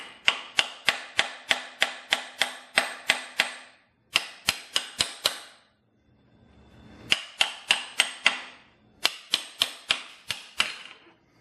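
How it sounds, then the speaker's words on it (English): Rapid light hammer taps on a truck clutch's metal bearing retainer in bursts of sharp, ringing strikes, separated by short pauses. "get you a hammer and just tap on her lightly"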